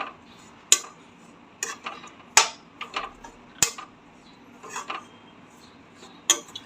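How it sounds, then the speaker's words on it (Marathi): Grated coconut roasted in a pan over medium gas, heard as sparse, sharp scraping clinks of a spatula against the metal pan over a quiet background. "आता किसलेला खोबरा भाजून घेऊया छान लालसर भाजून घ्यायचा"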